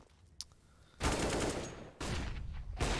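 Rapid gunfire from a Counter-Strike match in a pro esports game at a bomb site, a sharp lone shot followed by two loud sustained bursts of automatic fire separated by a brief pause.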